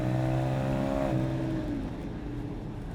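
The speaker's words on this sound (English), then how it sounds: "this engine still runs as if it was rebuilt yesterday. It's got a beautiful, beautiful sound to it." A Porsche 911 997.1 Carrera 4S Tiptronic with sports exhaust rumbles loudly and steadily, its pitch rising briefly then settling into a deep, throaty idle with a raspy exhaust note.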